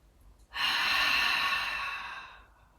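Single deep inhale during a core exercise, a strong, airy breath drawn in for about two seconds and then fading, close and alone.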